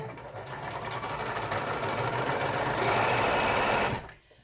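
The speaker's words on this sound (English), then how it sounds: "I'm going to put my machine in the needle down position, meaning that it will stop when I stop sewing." A sewing machine stitching bag straps runs in one continuous close, even whir for about four seconds, then stops abruptly at the needle-down position, leaving near silence.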